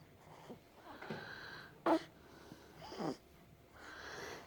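A baby hiccups twice, close by, each a short sharp catch with a quiet gap between, set against soft background breathing and faint room noise.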